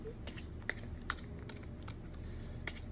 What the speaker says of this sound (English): I'm going to use my Gold Sky Tarot deck and I'm going to shuffle the cards